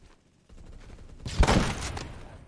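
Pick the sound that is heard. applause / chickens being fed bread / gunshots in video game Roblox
gunshots in video game Roblox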